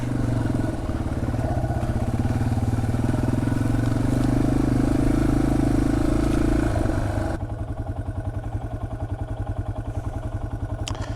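Yamaha TW200 motorcycle ridden slowly along a trail on the Hurricane Creek Loop, its single-cylinder engine thumping steadily and loudly close up, then dropping to a lower, choppier putter with the throttle eased off.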